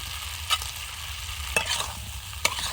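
Fried lentil dumplings tossed with roasted spice powder are stirred in a pan, with three distinct scraping strokes spaced about a second apart over a low, steady sizzle, close up and without speech.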